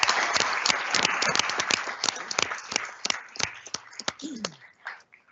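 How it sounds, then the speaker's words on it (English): A round of applause at a school board meeting for coaching staff in the audience: scattered, sharp claps from a modest group in a room, strong at first, then thinning out and trailing off toward the end. "we can give them all a big round of applause as well"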